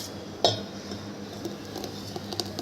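A spoon clinks against the container while stirring a homemade melon milkshake with milk and basil seeds: one sharp clink near the start, then lighter scattered taps and a soft swirling underneath, close and alone.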